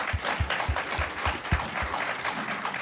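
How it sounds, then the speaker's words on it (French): An audience at a round-table discussion applauds its guests in a moderate, fairly thin round of clapping with a steady, rhythmic pulse. "Je crois qu'on peut applaudir mes invités."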